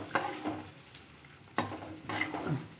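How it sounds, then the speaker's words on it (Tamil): Curry leaves frying in oil for a pongal tempering, a soft close sizzle with two bursts of spatter and stirring scrapes in a small pan. "ஒரு கொத்து கறிவேப்பிலை. நல்லா இப்படி வறுபட்டதுமே"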